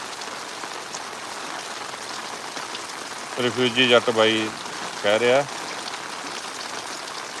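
Heavy rain beats down in Longowal village near Sangrur, Punjab, a constant close hiss of water, while someone speaks briefly over it in two short bursts.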